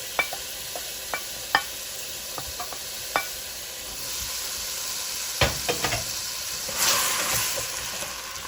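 Beef sizzles and fries in a large pot for a Jamaican beef stew, a steady hiss broken by sharp spatters and stirring scrapes, with a louder burst of sizzling near the end.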